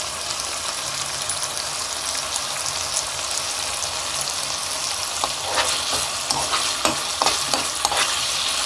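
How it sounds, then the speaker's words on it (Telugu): Ingredients for egg biryani fry in a pan with a continuous close sizzle, while spoon-stirring scrapes and clinks grow busier toward the end. "ఒక 2 మినిట్స్ వేగనిద్దామండి. ఒకసారి చూద్దామండి, బాగా వేగిపోయింది."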